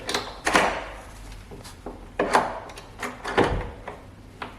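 Door on a street in Lisbon being worked open, a series of sharp clunks and rattles of the lock and handle with dull thumps as the door is pulled, close and loud, spaced irregularly.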